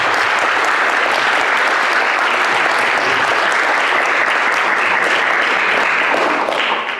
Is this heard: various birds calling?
no